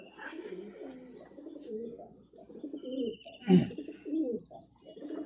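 Soft, low pigeon cooing repeats steadily nearby, with a few faint chirps and a brief thump partway through.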